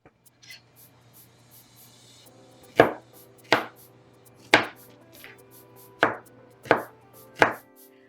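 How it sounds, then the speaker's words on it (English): A knife dices a white onion on a cutting board in six crisp, evenly spaced chops after a few quiet taps, each stroke a sharp close thud with short silence between, and no talking. "We're going to be cutting this onion for our dish in nice size"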